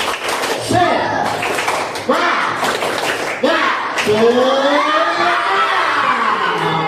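A classroom group performs the rhythmic tepuk semangat clap chant, bursts of hand claps alternating with children's chanting voices, close and lively, with a teacher's voice leading.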